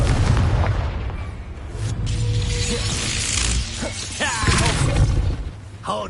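Explosive spell blasts in the Hogwarts Legacy video game, several heavy booms and crackling bursts amid mechanical clatter during a duel, loud and close, with faint voices in the mix.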